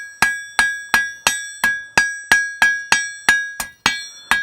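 A blacksmith's hammer taps a cooling steel piece to flatten ripples: about twelve sharp, ringing metallic strikes at a steady, even pace, each with a bright decaying ring, close and loud with no talking.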